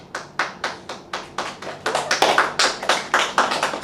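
A church congregation claps during a sermon. About a dozen sharp, close claps come in an uneven rhythm and grow denser and slightly louder toward the end, with no speech.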